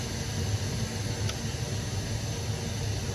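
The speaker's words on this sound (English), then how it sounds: "with the pink noise on there" Steady broadband pink noise test signal played through an old amplifier at a decent volume, a constant even hiss filling the whole stretch without pauses.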